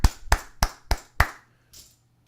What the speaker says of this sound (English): Big round of applause to everybody.